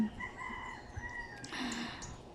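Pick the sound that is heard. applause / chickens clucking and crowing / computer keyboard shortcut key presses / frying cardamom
chickens clucking and crowing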